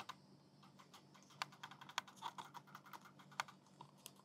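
Delux M800 Pro mouse side buttons clicking up close: sparse, sharp little clicks at uneven intervals, a few louder than others, over a quiet background.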